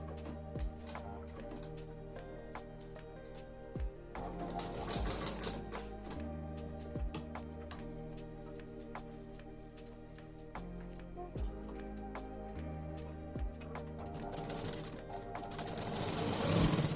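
A sewing machine stitches fabric scraps for machine covers, a soft rhythmic mechanical chatter with repeated needle clicks and brief pauses, fairly quiet and steady, building slightly toward the end.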